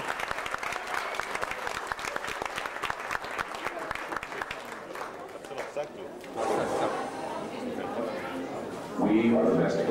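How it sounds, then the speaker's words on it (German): Audience applause and cheering at a 1997 Planet Hollywood show welcoming the Baggy Boys dance trio, dense and steady for several seconds while voices chatter over it, then giving way to music starting up. "Einen ganz großen Applaus für die Baggy Boys"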